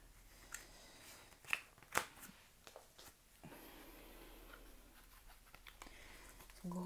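A deck of playing cards is shuffled nearby, giving short riffling bursts and soft flicks over a quiet room.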